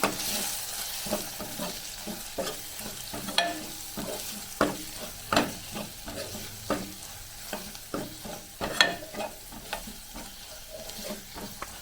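Spices and tomato fry in a pan for a raw banana masala, a continuous sizzle punctuated by regular, fairly close scraping and tapping strokes of a spoon stirring the mixture, alone without talk.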